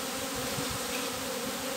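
Honey bees buzzing close by in a dense, continuous hum that stays steady and loud throughout, with no voices.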